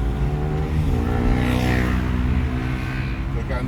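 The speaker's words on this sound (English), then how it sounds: "So gear 1, little check around the car, ready to drive away." A car engine pulls away in first gear, its low drone climbing in pitch as the revs rise, with a person talking over it throughout.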